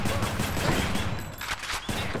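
Rapid gunfire from a gun weapon in the action video game Hades, a dense, loud, continuous burst of shots layered over busy game sound with no pause.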